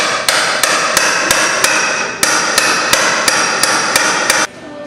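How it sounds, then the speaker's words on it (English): A heavy hammer strikes metal over a dozen times in a steady, even rhythm, loud and close, then stops. "A big ass hammer."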